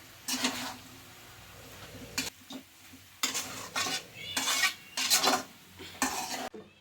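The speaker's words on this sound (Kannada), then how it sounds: "ಈಗ ಮಿಕ್ಸ್ ಮಾಡಿಬಿಡೋಣ. ಜಸ್ಟ್ ಈ ರೀತಿ ಮೇಲೆ ಕೆಳಗಡೆ ಮಾಡಿ." Bursts of stirring pumpkin palya in a metal pan, scraping and clinking strokes in uneven clusters with short pauses and a light sizzle beneath, close-up and without speech.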